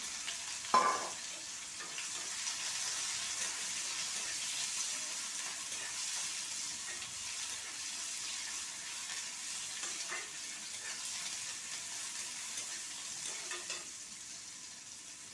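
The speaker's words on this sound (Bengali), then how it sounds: "তো এইভাবে আমি পেঁয়াজটাকে সুন্দর করে ভেজে নিই।" Chopped onions fry in hot oil in a home kitchen, giving a steady, soft sizzle throughout with a few faint clicks from stirring.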